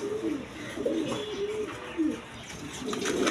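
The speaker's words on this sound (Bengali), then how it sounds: "একদম বিগ সাইজের কবুতর নর মাদি সেম টু সেম" Large male and female pigeons coo close by, a run of low, throaty, repeated calls that overlap one another with no pauses.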